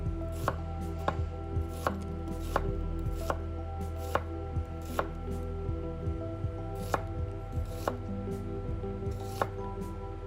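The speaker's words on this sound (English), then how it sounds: "So this is the method you're going to want to use while slicing all of your onions" Knife slicing onions on a cutting board in an evenly paced series of about fourteen crisp chops, each a sharp tap against the board, close and clear with no talking.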